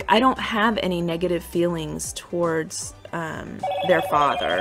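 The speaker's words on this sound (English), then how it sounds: "I'm sorry, that was my phone." A mobile phone rings briefly near the end, its electronic tones sounding under a person's ongoing conversational speech.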